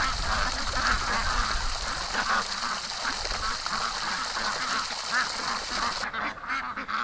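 A group of ducks quacking and honking steadily nearby, a dense chorus of overlapping calls outdoors with little pause.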